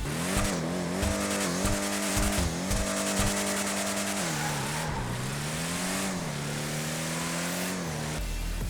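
A loud off-road vehicle engine in GTA 5 Online runs continuously nearby, its pitch climbing and dipping as it revs up and eases off, with no one speaking.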